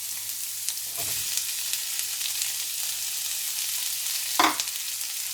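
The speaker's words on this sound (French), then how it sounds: "Et je vais ajouter le poivron." Bell pepper tossed into chickpeas and chorizo frying in a pan, a continuous close sizzle with a couple of brief clattering stirs breaking through.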